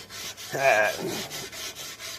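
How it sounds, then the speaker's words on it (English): Steel wool scrubbed against a rusty tire rim, close, rhythmic back-and-forth rasping strokes repeating about every quarter second, with one louder gritty stroke in the middle. "all I could find to clean the rust and crap off this rim was some steel wool"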